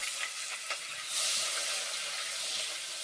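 Onion and green chili frying in hot oil with salt for thieboudienne, a steady close broadband sizzle that swells louder partway through, with faint stirring clicks and no talking.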